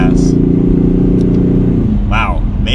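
A 2021 Ford Mustang EcoBoost in quiet mode under light throttle, a smooth subdued engine hum that holds steady then eases off, with a voice talking over it.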